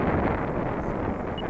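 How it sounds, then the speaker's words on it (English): A breezy wind buffets the microphone outdoors at a model airplane flying field, a steady low rushing roar with no talk. "It is a little bit breezy."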